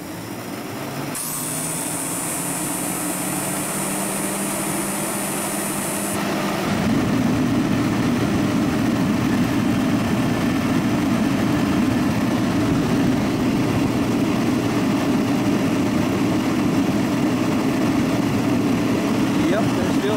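A silent drive forced air heater runs with its cover off, giving a steady, loud roaring drone that swells after a high-pitched whine fades out partway through.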